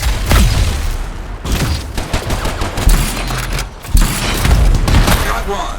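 Turrets being blown apart in the video game Anthem, with continuous loud gunfire, rapid bursts and heavy booming explosions layered over each other, and a short lull near the middle before the barrage resumes.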